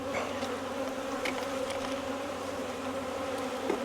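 Honeybees buzzing steadily at an open hive during an inspection on a 13-acre farm, a dense, continuous close-up hum with no voices.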